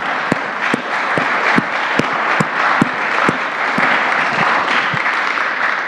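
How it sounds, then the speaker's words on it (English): An audience at an academic event gives a round of applause, a steady wash of many hands clapping with a few sharp, close, evenly spaced claps standing out above the crowd. "let's just give Andy and Lucy a round of applause"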